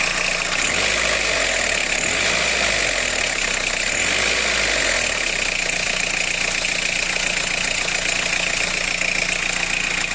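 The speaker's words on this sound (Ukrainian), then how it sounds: "Шкрегет такий нормальний стоїть." A Fiat Scudo 1.9 TD diesel engine with a faulty turbo runs steadily with a harsh grinding rattle and a whining tone over the idle, close and continuous, with no talking.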